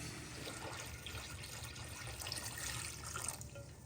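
Water running steadily from a tap into a canning pot, a soft, continuous splashing hiss that stays fairly quiet and even throughout, with no voices.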